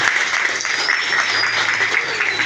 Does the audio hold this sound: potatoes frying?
no